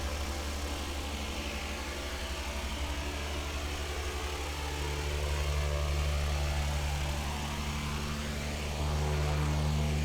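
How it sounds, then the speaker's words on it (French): A Canadair CL-415 water bomber's propeller engines drone steadily up close, a loud, even buzzing hum that swells slightly near the end. "C'est quand même un avion sympa."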